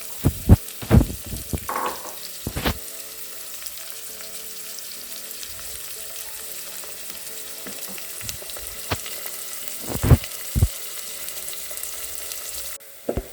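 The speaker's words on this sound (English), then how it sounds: "Stir the onions to ensure that they absorb the cooking oil so as to cook on both the sides." Red onions fry in cooking oil with a soft steady sizzle, punctuated by several sharp scraping clicks of a utensil stirring the pan in uneven bursts, close and fairly quiet.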